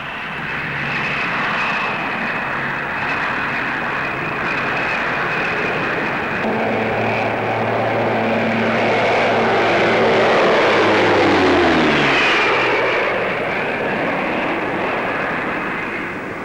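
A turboprop airliner with Mamba engines drones overhead at an airshow, its engine hum swelling steadily to a peak and then fading as it passes, with no other sounds.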